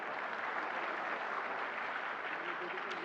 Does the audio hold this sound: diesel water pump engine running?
no